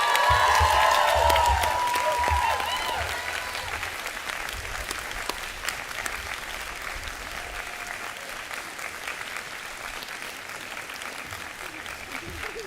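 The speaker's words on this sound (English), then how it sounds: "Please applaud Maeve Carolan." A graduation ceremony audience claps steadily, loudest at the start with a few cheers, then settling into sustained, gradually fading applause.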